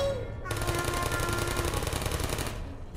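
Portal turret firing, a rapid, loud machine-gun stream of closely spaced shots that starts abruptly and stops after about two seconds.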